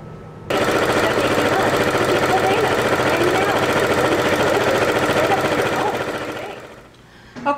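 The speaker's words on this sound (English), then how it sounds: "we're going to lay the ribbon down on our sewing machine with the tulle on top" A sewing machine stitching ribbon and tulle runs at a steady, fast rhythmic whir for several seconds, then slows and stops with a soft clunk.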